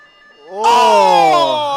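An end-of-period buzzer sounds at a women's basketball game, a loud sustained harmonic tone rising in after a short lead-in and holding steady for over a second under commentary.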